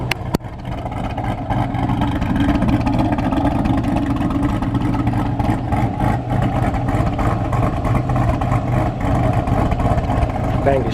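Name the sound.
LSA V8 swapped Pontiac G8 engine running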